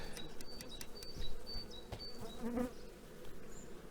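Honey bees buzzing around brood frames in an open hive, a close, continuous droning hum with individual bees passing near, plus faint handling noises and no voices.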